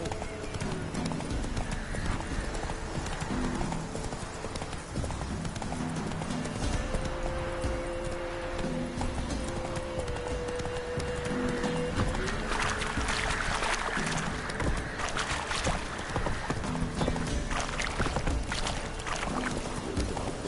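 In The Witcher 3 video game the horse Roach gallops with a steady, rapid clip-clop of hooves over continuous ambient game sound, and faint voices come through now and then.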